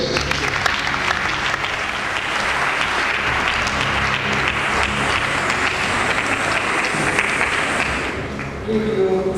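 A school audience claps loudly and continuously to welcome two lawyers. The dense applause runs steady for about eight seconds and then dies away.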